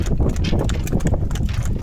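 Hooves of bullocks walking on a village road give a steady clip-clop, close and fairly loud over a low rumble of outdoor noise.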